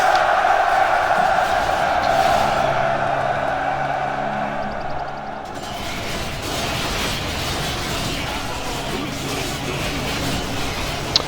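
A massed army cheers and roars in Rome Total War, a dense crowd din that holds steady for several seconds and then shifts into a broader surge of battle noise, with a voice over the top early on.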